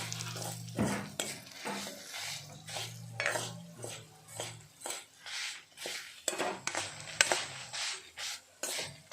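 Ingredients for an ivy gourd sambar frying in a pan, heard mostly as rhythmic metal clinks and scrapes of a spoon stirring against the pan, with a faint sizzle underneath.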